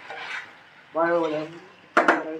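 Chicken 65 pieces tossed in sauce in a hot pan, giving short bursts of scraping and clattering from a utensil against the pan, separated by quiet gaps, close by.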